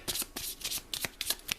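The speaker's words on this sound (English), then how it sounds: "So we'll shuffle these up." Cards from the Pandemic: Reign of Cthulhu board game are riffled and shuffled close up, several quick crisp bursts of flapping card noise in a short, uneven sequence, fairly quiet.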